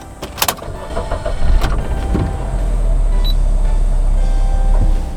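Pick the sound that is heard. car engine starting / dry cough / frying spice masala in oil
car engine starting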